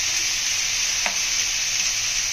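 Onions and ginger paste fry in a pan with a steady, close sizzle that holds evenly throughout, broken once by a brief stir.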